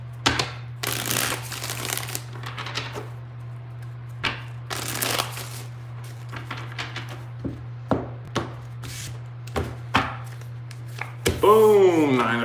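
Tarot cards being shuffled in bursts of riffling and flicking, with a steady low hum underneath and a brief voice near the end.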